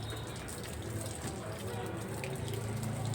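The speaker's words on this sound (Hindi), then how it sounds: "और ये पाइप से नहाना तो पसंद करती है, बस दूर से पानी डालते रहो तो इसे बहुत अच्छा लगता है।" Steady water stream from a hose pipe pouring over a dog during a summer bath, a continuous splashing wash with faint talk in the background.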